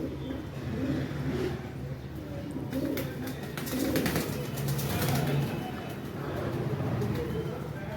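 Pigeons coo softly in low, rolling calls, with brief rustling bursts like wings flapping and a faint background hum.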